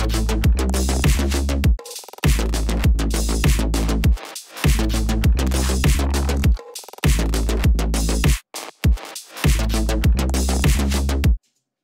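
Loud electronic mix with bright hi-hats, glitchy percussion, a punchy kick and snare line and a rolling bass riff, looping in a steady driving rhythm with brief drop-outs between bars, no voices.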